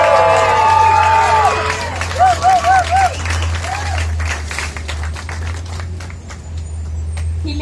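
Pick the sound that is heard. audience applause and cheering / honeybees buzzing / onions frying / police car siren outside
audience applause and cheering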